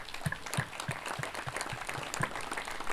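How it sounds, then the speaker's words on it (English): Applause from an audience at a school ribbon cutting ceremony, a crowd clapping steadily with a few sharper nearby claps standing out in a rhythmic pattern. "give these guys a round of applause because they deserve it"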